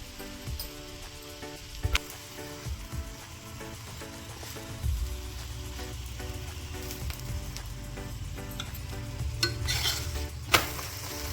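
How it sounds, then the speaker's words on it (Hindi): A cabbage paratha cooks with butter on a griddle, giving a soft, continuous sizzle under scattered spatula scrapes and metallic taps as it is turned, close and fairly quiet. "इसी तरह से पराठे को पलटते हुए पकाते जाएंगे"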